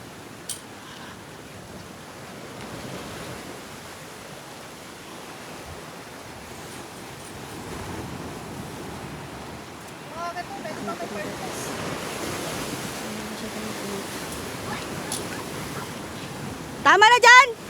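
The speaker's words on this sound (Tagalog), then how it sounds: "Sobrang lakas ng alon." Strong surf surges and crashes along a beach at Dasol, Pangasinan in rough weather, a steady broad roar with heavier breaks later and a burst of clatter near the end, faint voices now and then.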